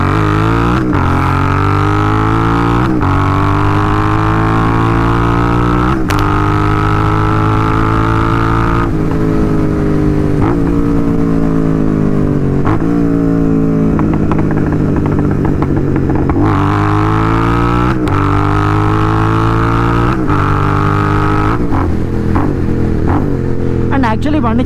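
A GT650 motorcycle pulls hard on a night ride, its engine note climbing in repeated rising sweeps as it shifts through gears, loud and close with a steady wind roar beneath.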